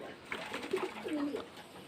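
A pigeon's soft, throaty coo, close and alone, lasting about a second.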